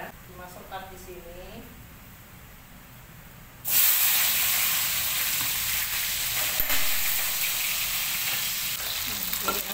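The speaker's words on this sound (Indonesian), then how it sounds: "Sekarang menggoreng bahan untuk nyambel ya, dimasukkan di sini." A voice speaks briefly, then loud sizzling erupts as chili paste ingredients, including candlenuts, hit hot oil, a continuous close frying hiss that carries on steadily.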